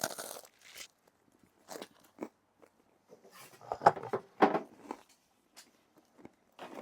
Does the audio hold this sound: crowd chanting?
no